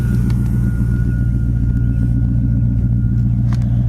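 A 1979 Dodge Magnum sits running with its dual exhaust, giving a loud, close, continuous deep rumble that stays steady throughout.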